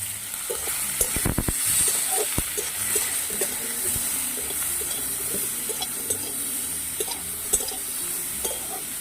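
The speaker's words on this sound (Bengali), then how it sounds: "সব সবজিগুলো দিয়ে দিচ্ছি পরিমাণ মতো নুন আর হলুদ দিয়ে সবজিগুলো মিডিয়াম ভেজে নিচ্ছি" Chopped vegetables sizzle in hot oil with salt and turmeric for a Bengali spinach curry, a steady crackling fry with repeated sharp stirring scrapes of a spoon against the pan.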